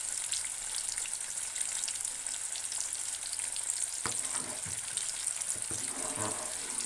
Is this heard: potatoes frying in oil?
yes